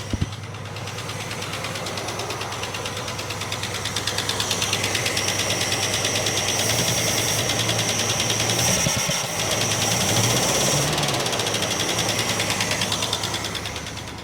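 A Plymouth Barracuda engine idling roughly with a dead cylinder, a steady close mechanical drone with a faint uneven knock and a high whine, continuous with no talk.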